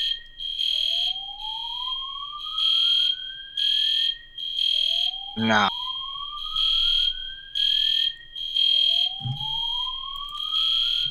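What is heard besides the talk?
fire alarm sounding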